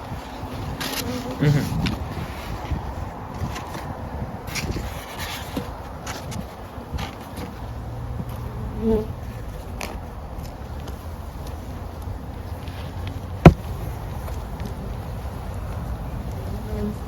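A big cluster of Saskatraz honey bees hums steadily inside an opened hive, a dense close buzz running the whole time with a few soft knocks and one sharp tap near the end.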